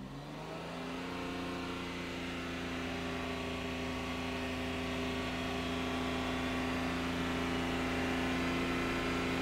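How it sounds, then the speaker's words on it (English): A smoking Daihatsu car engine is held at raised revs, a steady, loud mid-pitched drone with strong harmonics that climbs slightly at the start and then holds level throughout, close by and with no talk. "So let's just raise those revs again."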